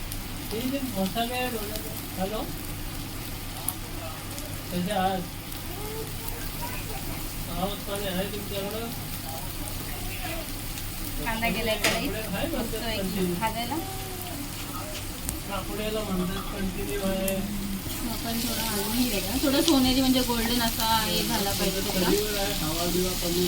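Chopped onion frying in oil in a kadai, a steady broad sizzle running the whole way with someone talking over it throughout.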